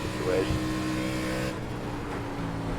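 Race car engines in the iRacing video game at Nashville Superspeedway during an ARCA Menards Series race, a sustained engine drone with a rising whine as a car passes and shifts pitch.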